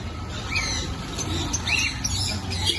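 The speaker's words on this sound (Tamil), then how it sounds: "இதெல்லாம் பேர்ட்ஸ் இருக்கு. காக்கட்டை," Pet birds, cockatiels among them, squawk and chirp in short bursts at a busy market stall, moderately loud over a low background hum.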